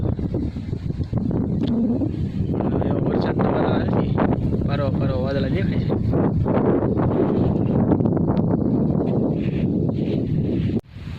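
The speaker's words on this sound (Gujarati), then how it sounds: "પવન ઉડે છે અત્યારમાં, પવન ઘણો ઉડે એમ તો" Strong, cold wind buffets outdoors in open village countryside under clouds, with constant rumbling gusts, while someone talks over it throughout.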